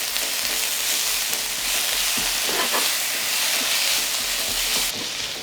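Chopped onion fries in a hot pan until soft, a loud, steady close sizzle and hiss with occasional stirring clicks throughout.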